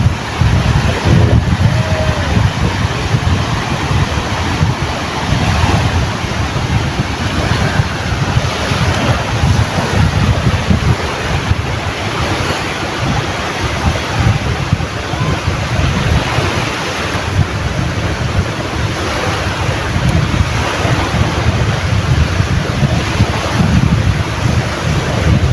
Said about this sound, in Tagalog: Di naman po siya kalakihan yung alon.